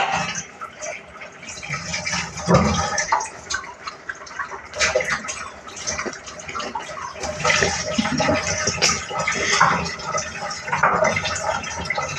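Water pours and splashes in a home kitchen while grated coconut is prepared for grinding during morning cooking, a fluctuating, gurgling liquid sound at moderate level lasting the whole stretch.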